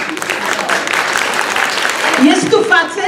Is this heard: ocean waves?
no